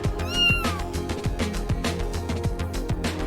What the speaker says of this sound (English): a game about a cat and have a meow button